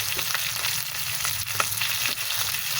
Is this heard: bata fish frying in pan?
yes